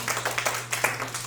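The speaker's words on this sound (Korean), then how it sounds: "우리 저기 뒤에 우리 이오키의 마누라한테 한번 박수 한번 보내주세요." Audience clapping at a lecture, a brief burst of many hands with a low steady hum underneath, moderately loud and without talk.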